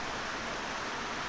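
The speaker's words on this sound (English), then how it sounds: "wow, the rain's getting loud now." Rain falls steadily as a broad, continuous wash of noise, moderately loud and even throughout, with no voices over it.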